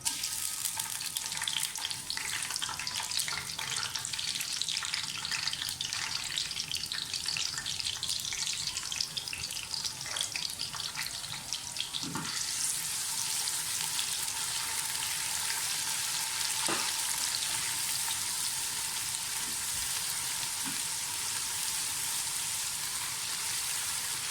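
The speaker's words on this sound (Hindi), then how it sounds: "प्याज को गोल्डन ब्राउन होने दें। प्याज फ्राई हो गए हैं" Onions frying in a pan for vegetable biryani give a steady, close, dense sizzle that hisses on without a break for the whole stretch, with no talking.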